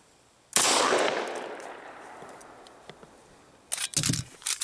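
A single sharp .45 ACP pistol shot fired into a gummy bear cracks loudly up close, then rings out in a long fading tail, followed by a few quick clicks and rattles of handling.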